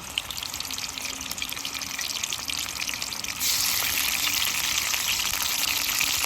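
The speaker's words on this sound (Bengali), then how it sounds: "তেলের উপরে দিয়ে দেবো পেঁয়াজ বাটা রসুন বাটা কাঁচামরিচ বাটা" Onion, garlic and green chilli paste hits hot oil with whole cumin seeds, giving a steady close hiss of frying that grows louder and denser about halfway through, with no voices.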